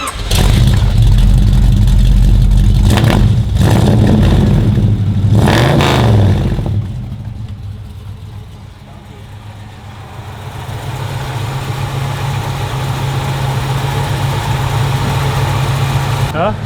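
A 1968 Camaro SS engine runs loud and close, with blipping revs and bursts in the first seconds before settling into a steady rumbling idle that dips and then climbs back. Voices are heard talking alongside it.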